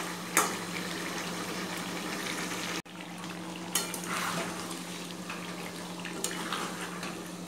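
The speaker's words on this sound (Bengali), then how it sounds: "মাংসটা কষানো চলছে" Mutton braising and frying in a pan crackles and bubbles softly at close range, with a few sharper pops and a sudden brief drop partway through.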